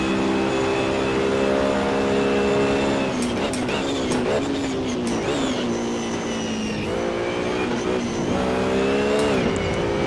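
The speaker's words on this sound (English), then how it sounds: "It's amazing the feel you have on this game when you run over the rumble strips." Racing car in a sim racing game such as Project CARS, Assetto Corsa or iRacing, engine droning loud and steady with harmonic whine, bursts of rapid buzzing judder as the tyres run over rumble strips, alone without talk.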